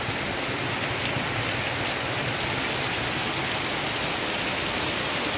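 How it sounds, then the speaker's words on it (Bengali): Rain falls steadily and densely, a close, even wash of patter on surfaces with no pauses and no voices. "সকাল থেকে চলছে বৃষ্টি"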